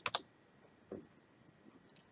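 Sharp mouse clicks on a computer: a quick double click at the start, a soft thud near one second, then another cluster of small clicks near the end, close and fairly quiet with no talking.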